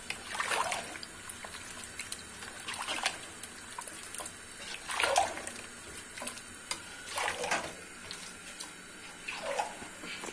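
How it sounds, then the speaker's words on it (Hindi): Water poured into a pot of arvi gosht, taro and meat curry, before pressure cooking, heard as several splashing, trickling bursts a couple of seconds apart over a quiet kitchen background, with no speech. "फिर पानी डालना।"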